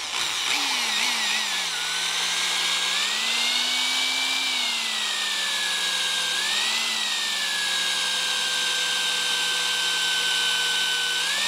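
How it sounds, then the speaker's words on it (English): A power drill whines steadily at close range, its pitch rising and dipping slightly as the bit bites into steel angle iron, continuous for several seconds. "I'm going to start drilling some holes in my angle iron here"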